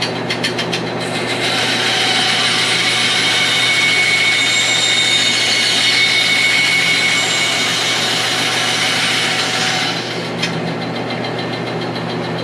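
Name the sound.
bandsaw trimming excess wood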